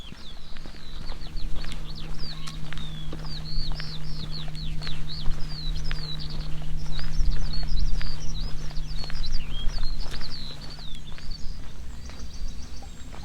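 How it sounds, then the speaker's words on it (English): Birds sing and chirp steadily in open countryside near Lound and Ashby, Suffolk and Norfolk, U.K., many short bright calls repeating, with a low steady hum and scattered ground noise beneath. "You can hear the birds singing."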